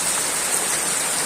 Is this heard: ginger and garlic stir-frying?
no